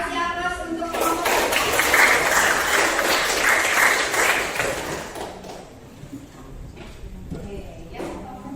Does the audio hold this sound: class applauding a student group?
yes